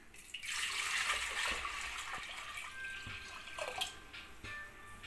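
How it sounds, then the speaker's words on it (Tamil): Water pours steadily into a pot on the stove for making sweet chakkarai pongal, a close hissing splash that fills the first few seconds and then trails off into faint drips and clinks. "தண்ணி ஊற்றிக்கலாம்."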